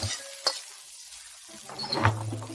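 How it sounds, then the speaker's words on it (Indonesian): Nasi goreng frying in a pan, with sharp scraping stirs of a spatula over a soft sizzle, two distinct clanks standing out against the quieter cooking noise. "Makan malamnya nasi goreng Dewi"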